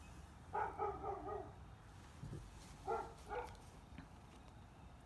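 A neighbour's dogs, apparently left alone while the owners are away, bark in two short bursts of several yaps each, distant and muffled outdoors over a low steady background hum.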